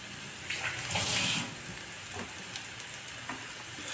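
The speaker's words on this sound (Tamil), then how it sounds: "இதை வந்து நல்லா வதங்கி பொழு பொழுன்னு வர்ற அளவுக்கு நம்ம வதக்கிக்கிட்டு இருக்கணும்" Cluster beans and lentil crumble (paruppu usili) sautéing in oil in a pan, with a steady close sizzle and hiss that swells briefly before settling into an even frying crackle with no talk.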